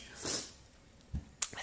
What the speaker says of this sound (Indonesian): terkadang bersin-bersin